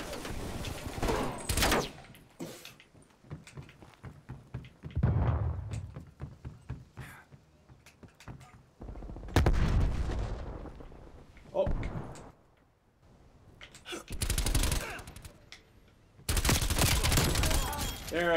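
Gunfire in the video game Black Ops Cold War comes in scattered sharp bursts and volleys, with a player talking over and between the shots.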